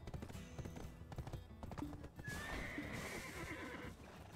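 A horse in Black Desert Online gallops with steady clip-clop hoofbeats, then gives a loud neigh over the running hooves.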